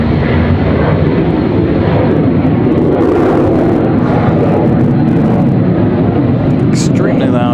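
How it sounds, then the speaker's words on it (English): An extremely loud executive jet roars past at Raleigh-Durham airport, a continuous, powerful broadband engine rumble and whine filling the whole stretch at close range. "Extremely loud exec jet."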